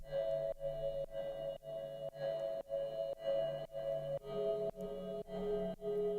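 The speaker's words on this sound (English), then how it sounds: "I've used a preset called Melodic Bubbles in my sound bank for Vital, and with some reverb as well" Vital synth Melodic Bubbles preset drenched in reverb, playing a chord progression: sustained tonal chords pulse in roughly half-second repeated bursts, with the harmony shifting partway through, steady and fairly loud with no voices.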